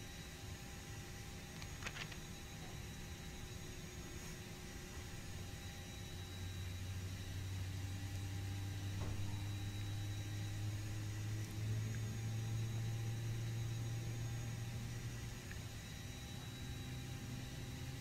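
An Airbus A320's engine 2 spools up in the FSX flight simulator: a steady, airy whine over a low rumble, with a deeper tone swelling in and holding for several seconds, and no voices.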